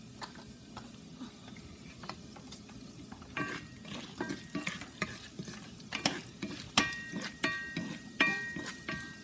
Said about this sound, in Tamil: கடுகு உளுந்தம்பருப்பு எல்லாம் சேர்ந்து நல்லா வதங்கணும்.